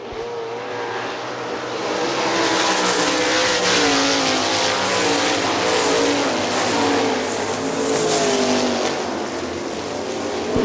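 Sprint cars race on the dirt oval at Hartford Speedway Park, a continuous loud roar of several engines revving and sustained throughout, with no break in the noise.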